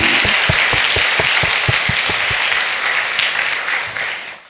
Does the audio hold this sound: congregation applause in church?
yes